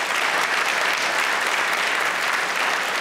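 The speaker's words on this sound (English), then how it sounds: "and you can tell from the applause" Steady applause from a live studio audience at a televised political discussion with two U.S. senators, dense and sustained clapping throughout with no voices over it.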